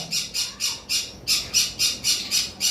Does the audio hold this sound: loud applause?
no